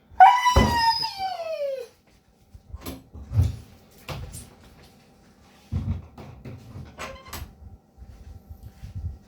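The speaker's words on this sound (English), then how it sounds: "Sorry, that was my dog." A pet dog gives a drawn-out, falling howl up close, followed by scattered soft knocks, scuffs and faint yelps in a quiet indoor room.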